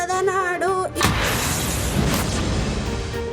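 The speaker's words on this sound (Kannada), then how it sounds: "ಪಟಾಕಿ ಸಿಡಿಸಿ ಸಂಭ್ರಮಿಸಿದ್ರು." Firecrackers burst at a village celebration, a sudden loud blast followed by a dense, crackling rumble of explosions that comes in after a short stretch of singing and music.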